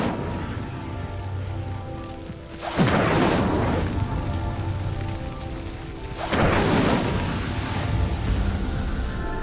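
Two whooshing bursts of the Incendio fire spell in Hogwarts Legacy, each a loud, roaring flare rising over a steady ambient background.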